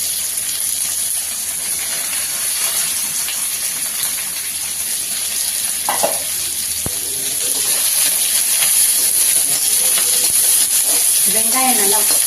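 Steady loud sizzle of finely chopped onion frying in hot oil, a continuous hiss with a few brief clinks and stirs near the end.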